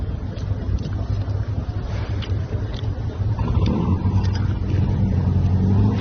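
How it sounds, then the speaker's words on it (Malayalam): A big boat approaching on the open sea, a low engine rumble rising slowly under steady wind buffeting the microphone. "മറന്ന ഹെൽമെറ്റുമായിട്ടൊരു വലിയ ബോട്ട് വരുന്നുണ്ട്"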